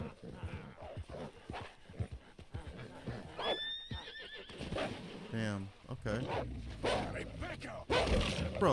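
A horse in the Red Dead Redemption 2 video game, startled by a wolf, lets out a sharp high whinny amid hoof clatter and game ambience, with a player talking over parts of it.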